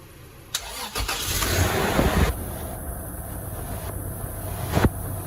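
A car raised on jack stands during a power steering fluid change cranks and fires, runs roughly for a second or two, then shuts off, leaving a quieter hum. The engine sounds close and fairly loud.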